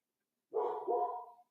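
A dog lets out a single drawn-out bark that breaks into a second bark, close and clear after a moment of silence, with no voices.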